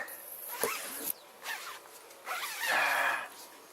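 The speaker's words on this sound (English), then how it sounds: "Zip it." A zipper on a Wilson and Fisher gazebo is drawn in several short, rasping pulls outdoors, with brief pauses between strokes and a longer final zip.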